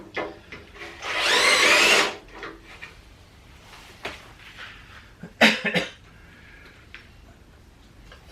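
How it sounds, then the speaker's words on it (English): A drill bores out rivets on a car bonnet in two short, loud whirring bursts nearby. Scattered clicks and knocks fill the pauses. "So these rivets are coming off quite easy."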